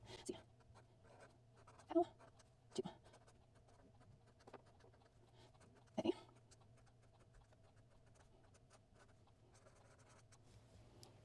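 A pen scratches across paper while a thank you note is written, quiet close strokes with a few sharper taps against a faint steady hum.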